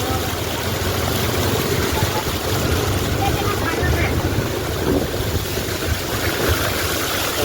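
River water flows steadily near Khilipur, making a continuous rushing wash throughout, close and fairly loud, with no clear speech over it.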